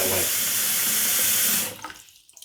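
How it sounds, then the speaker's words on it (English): Hot water pours steadily from a tap into a sink for a shaving brush to soak in, a loud close rush that cuts off abruptly and leaves faint drips. "my brush is soaking in hot water because I find it takes care of the soap better"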